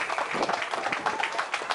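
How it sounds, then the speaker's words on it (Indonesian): Applause from an audience at a regional organisation's inauguration ceremony in Tegal, a short dense burst of clapping filling the space, fairly loud and steady. "Kita beri tepuk tangan yang paling meriah untuk Bung Asrori"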